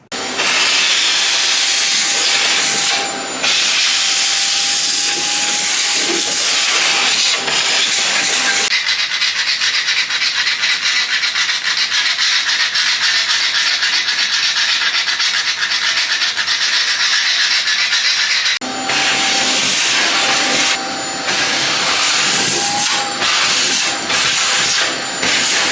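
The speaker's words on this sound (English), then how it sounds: "So I just finished shaving down 2 to 3 mil of the existing grout." A power tool shaves down old grout between floor tiles. It makes a loud, continuous gritty hiss and rasp that runs for the whole stretch, shifting in tone as it moves along the joints, with no talking.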